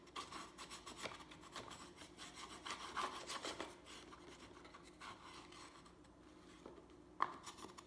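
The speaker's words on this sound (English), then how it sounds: "And smooth it down. You can use your bone folder." A bone folder rubs and smooths paper down on a double-sided picture frame craft project, giving a steady, close rasping swish in repeated strokes, fading quieter toward the end with a brief tap near the close.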